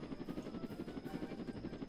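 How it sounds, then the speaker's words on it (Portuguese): A helicopter in the Roblox Jailbreak video game, its rotor beating in a steady, rapid rhythmic thump at low volume, alone without voices. "fugi de helicóptero agora"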